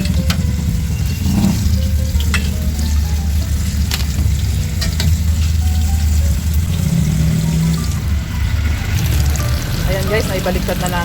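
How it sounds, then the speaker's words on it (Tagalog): Tofu (tokwa) frying in a pan for a simple bean sprout dish, giving a steady, close sizzle for the whole stretch, with occasional clinks and scraping as it is turned and handled. "naibaliktad na natin yung ating pinipritong tokwa"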